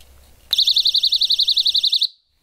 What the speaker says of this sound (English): you can set up your perimeter alarm using these alarm devices here